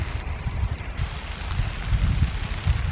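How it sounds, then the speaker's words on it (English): Rain begins to fall in a garden, a steady patter and soft rush of drops close by, without voices. "it's beginning to rain"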